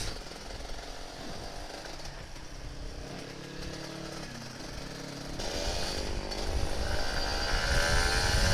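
A Kawasaki Ninja RR 150 motorcycle engine rattles along at night, then revs up louder toward the end, its pitch climbing in rising sweeps.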